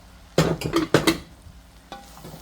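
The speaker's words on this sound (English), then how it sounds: "So we're gonna mix everything together." A chicken and rice dish is stirred in a pan, with several rough scraping strokes in quick succession, close and fairly loud, then a pause and one lighter scrape with a faint sizzle underneath.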